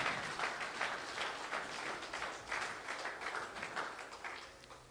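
A church congregation at a Sunday service claps together in steady, irregular applause for about five seconds, moderately distant and even in level, with no talking over it.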